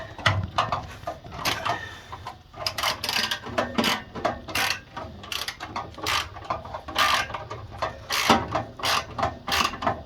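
Socket wrench ratcheting while tightening a bolt on a home furnace blower fan motor, giving repeated fast clicking bursts in uneven spurts, close and fairly loud, with no talking.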